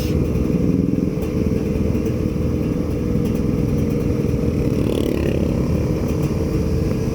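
A two-stroke motorcycle engine drones steadily and loudly while riding on a touring road, a constant near engine roar with wind rush and no clear changes in pace.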